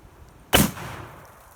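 A .454 Casull semi-wadcutter round fired at an outdoor shooting range, a single loud, sharp report with a short rumbling decay.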